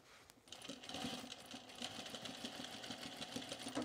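Sewing machine backstitching through denim on a pair of jeans, a continuous faint motor hum with a fine rapid needle rhythm that holds steady for several seconds.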